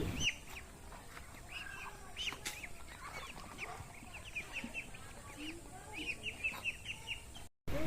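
Chickens cluck and call around feed being mixed on a small rural farmyard, with steady overlapping bird chatter, occasional louder clucks close by, and a soft background hum throughout.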